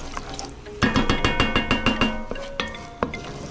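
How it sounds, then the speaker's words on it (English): A spoon scrapes and clinks against a pot while Spanish-style beef stew with vegetables is stirred, a quick run of rhythmic knocks followed by a few slower, isolated taps, close and clear. "Stir that in. Mix it in with the vegetables."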